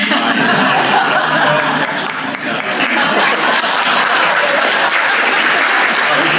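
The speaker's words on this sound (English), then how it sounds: "if you want to applaud for me at any time" Loud, steady audience applause fills the room at a leadership forum panel, dense clapping mixed with some chuckling and laughter from the crowd.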